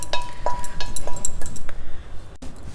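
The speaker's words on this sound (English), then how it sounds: "just mix everything well together. Preferably use a fork" A fork stirs palak rice mixed with ghee in a dish, giving quick irregular metallic clinks and scrapes, close and fairly loud, with a soft squish beneath.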